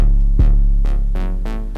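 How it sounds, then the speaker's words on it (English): Short West Coast synth stabs over a deep, sustained 808 bass, four or five bright chord hits spaced about a third of a second apart, loud and close in a mix with no voices. "the sound of that West Coast stab"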